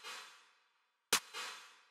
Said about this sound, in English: So you can now hear a second wave of reverb.